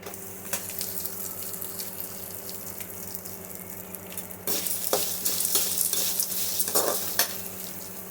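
Vallarai leaves roast lightly in a pan for thuvaiyal with a soft, steady sizzle. Occasional utensil taps join in, and the sound grows brighter and louder midway as stirring scrapes pick up. No one speaks.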